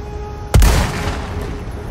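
A single heavy gunshot in Resident Evil 4 Remake, one loud close boom with a short ringing tail over low game ambience.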